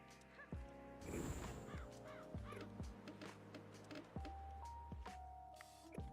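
Game bird cawing in the Pirate101 pirate adventure game, a few harsh caws over tonal game music and effects, moderately loud and continuous across the scene.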